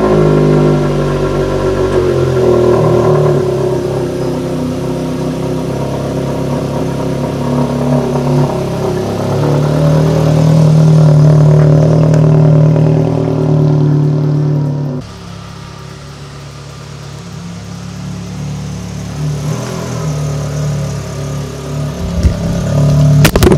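A car is driven and turned around in a garage or driveway, its engine running loud and close with changing revs as it maneuvers, then dropping to a quieter idle, with a clattering knock near the end.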